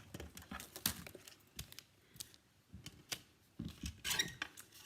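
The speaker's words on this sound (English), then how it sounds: "I'm going to just trim this by hand" Material trimmed by hand with scissors, producing a series of irregular close snips and crisp cutting clicks with brief pauses between them, plus light rustling of the material.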